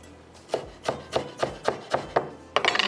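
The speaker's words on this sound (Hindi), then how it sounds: "थोड़ा सा हरा धनिया इसमें डालते, ऊपर से थोड़ा सा आप चॉप करके डाल दीजिएगा" Green coriander is chopped with a knife on a board, about eight evenly spaced, crisp thuds at a steady rhythm, followed by a quick flurry of faster cuts at the end.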